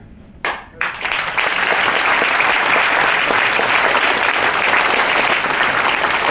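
An audience bursts into applause after a brief hush, and the dense, steady clapping from many hands carries on loud and unbroken to the end.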